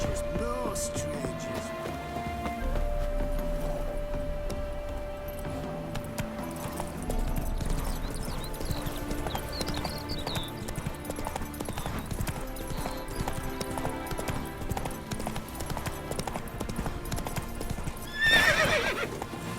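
Horse hooves clip-clop steadily with occasional whinnies while a game character rides in The Witcher 3, set under continuous music and brief spoken lines, with a louder burst near the end.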